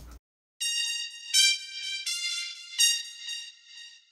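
High-pitched synth brass from a brass ensemble preset, an octave higher, plays a handful of held notes in a bright upper octave, each note starting with a slight swell, with no speech.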